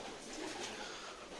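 Madrasi pigeons sit in a loft and coo softly, a low murmuring call in short repeated swells, faint and steady with no talk.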